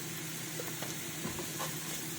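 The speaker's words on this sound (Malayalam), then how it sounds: "ഉള്ളി ഇട്ടതിന് ശേഷം നന്നായിട്ട് ഇളക്കുക." Onions and green chillies fry in a pan with a continuous soft sizzle, and occasional light stirring scrapes and a final clink are heard up close.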